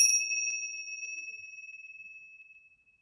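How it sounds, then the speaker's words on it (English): A small bell rung once at a chalice lighting during a worship service gives a clear, bright ding that rings on and slowly fades over a few seconds, with nothing else heard. "so I'm going to ring the chalice or ring the bell."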